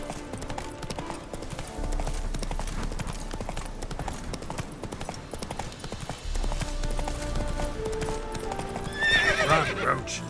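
Roach the horse in The Witcher 3 galloping with steady rhythmic hoofbeats and letting out a whinny near the end, over game ambience; someone speaks briefly.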